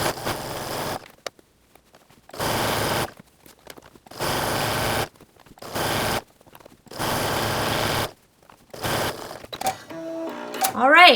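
A sewing machine stitches a stretched jogger pants waistband in several loud, steady bursts separated by quiet pauses, with a brief rattle near the end.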